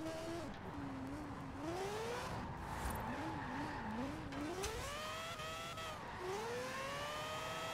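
A rotary-engined Mazda Miata in a racing video game drifts with long wavering tire squeals over a constant engine drone, with some speech faintly underneath.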